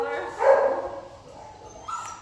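Dog at an animal shelter making short yips and whimpering sounds, loudest near the start and again at the end, with people talking faintly in the background.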